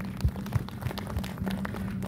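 An audience applauds to welcome a guest named Rajiv at a speaking event, with steady crowd clapping and a few louder nearby claps standing out.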